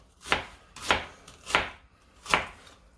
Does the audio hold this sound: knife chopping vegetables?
yes